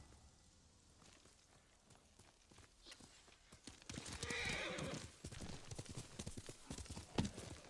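Horse hooves clip-clop in a steady rhythm with a whinny in Ghost of Tsushima gameplay, growing louder midway over a faint backdrop of falling rain.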